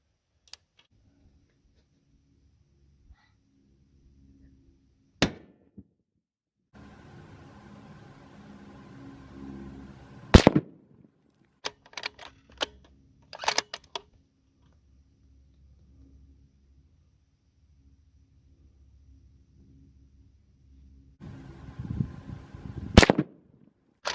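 Rifle shots from a Bergara B14 HMR chambered in 6.5 Creedmoor ring out as several sharp, loud cracks spread apart with quiet gaps, with faint handling noise and light clicks between them.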